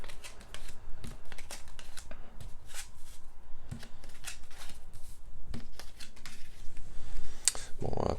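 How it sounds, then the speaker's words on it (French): Tarot cards are laid out one by one, giving soft, close snaps and slides of card stock at an uneven rhythm, with a steady background hum and someone speaking French in between. "je finis de poser les cartes"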